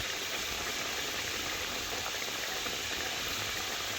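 Katla fish curry made with ground spice paste simmers in a pan to reduce the water. It gives a steady, even bubbling hiss throughout with no pauses.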